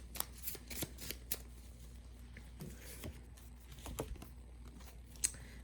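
A deck of tarot cards is shuffled by hand, giving soft, quiet riffling and papery flicks in short irregular bursts close by, with no talking.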